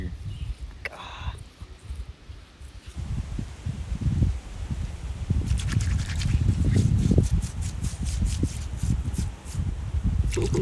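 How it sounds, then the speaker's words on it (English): Water is poured and splashes onto a carved rock outcrop in Floyd County, Kentucky, in uneven close trickles and spatters with rustling handling noise throughout. "We're gonna pour some water on it here in a second"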